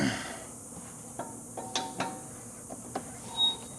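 Icon spanner wrench turning coilover adjuster collars on a 2023 Chevy Colorado Z71, giving sparse, faint metallic clicks and ratcheting ticks at irregular intervals against a quiet background.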